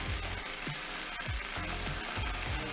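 Braciole meat rolls browning in a hot pan, a loud continuous sizzle and crackle close up, with soft repeated low thumps as they are moved about.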